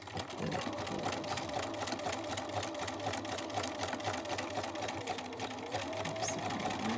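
A sewing machine stitches scrap fabric patches with a steady, continuous rapid whir of the needle and motor, close and even throughout.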